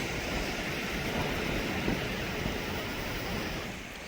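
Water spills over a field bund after rain, giving a steady, soft, even rushing sound throughout, heard from nearby outdoors with no clear talking.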